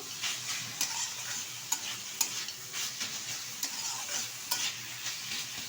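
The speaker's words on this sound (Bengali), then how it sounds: "এখন ভালোভাবে নাড়াচাড়া করে নেব।" Mustard greens frying with crumbled fried lentil dumplings (bori) are stirred in a pan, a steady soft sizzle broken by repeated scraping clicks of the spoon, close and alone with no talking.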